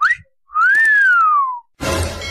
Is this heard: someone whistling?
yes